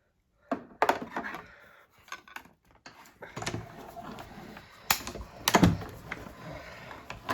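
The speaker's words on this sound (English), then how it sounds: "I'm going to take this die and run that through to die cut my sentiment." A die cutting machine runs a paper sentiment through with a clear plate, giving a close, loud series of clunks, clicks and rolling crunches, bursts of mechanical rattle spread across several seconds with no talking.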